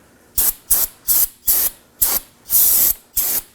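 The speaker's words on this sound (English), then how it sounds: "Spray it again." Brake cleaner sprayed onto a front brake rotor of a 2014-2020 Acura MDX in seven sharp, loud hissing bursts, one of them longer, close up with no talk.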